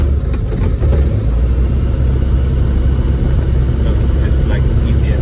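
The Rotax engine of a Scheibe Falke SF-25C motor glider runs near and loud in a steady low drone, with people talking over it.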